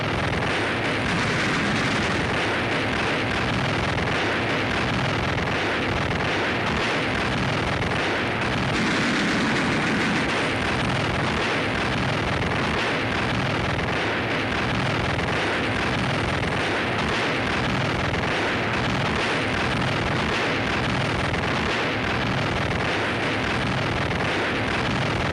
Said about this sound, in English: flayed by an absolute whiplash of cannon and machine gun fire.